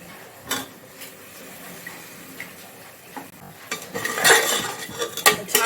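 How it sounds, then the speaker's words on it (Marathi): Large potato pieces being sautéed in a pan for a white peas pulao, heard as scattered metallic scrapes and clinks of a spoon against the pan, growing louder and busier toward the end. "छान परतून घेते मी."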